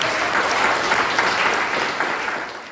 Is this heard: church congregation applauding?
yes